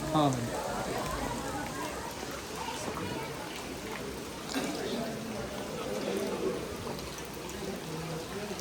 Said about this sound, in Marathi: पाऊस आला आता.